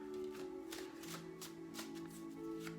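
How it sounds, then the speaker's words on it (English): Tarot cards are shuffled by hand in a quiet room, with soft repeated riffling and tapping bursts, close and faint, over a low steady hum. "Just because I'm taking forever to shuffle."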